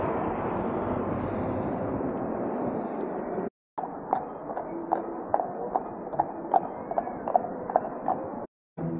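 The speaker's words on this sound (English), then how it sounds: "We've got a horse and cart there." A horse pulling a cart clops along a town street on Halloween night. After a stretch of broad street rumble, a run of sharp, evenly spaced hoof strikes rings out close by.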